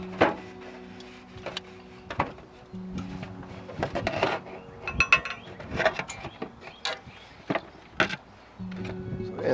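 Smoked beef short ribs shifted off a Kamado Joe grill into a pan, giving scattered close clanks, scrapes and soft knocks of meat and metal in an uneven sequence with no talk.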